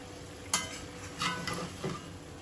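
Chicken gizzards, liver and skin cooking in a pot with a soft sizzle, punctuated by several quick spoon scrapes and clatters against the pot, close and without speech.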